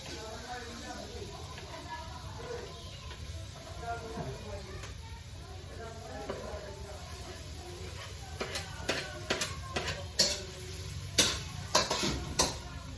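Vegetables and leafy greens cooking in a pan over low heat at home: a soft steady sizzle with a scrape or two of stirring, then sharper clinks and taps of utensils against the pan near the end, with talk throughout.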